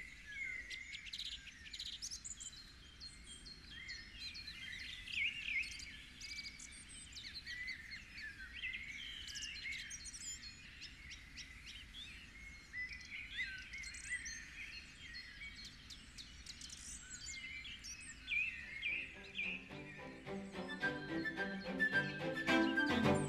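Morning chorus of many birds singing and chirping over a meadow, a dense overlapping tangle of calls at steady loudness, with faint insect-like buzzing toward the end and no talking.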